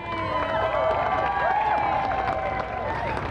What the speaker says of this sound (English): You can applaud that, absolutely.